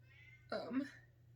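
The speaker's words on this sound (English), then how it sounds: "I'm really sorry if you can hear my cat meowing outside the door." A house cat meows outside a closed door, one drawn-out muffled call lasting under a second, moderately faint and set against a steady low room hum.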